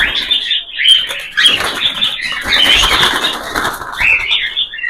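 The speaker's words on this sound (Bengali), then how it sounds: "প্রত্যেকটা পাখি দেখছেন কি লাফালাফি যাওয়াজাবি করছে।" Caged cockatiels hopping and flapping their wings, loud close bursts of fluttering and rattling against the cage with sharp scrabbling sounds, busy and uneven over several seconds, with no talking.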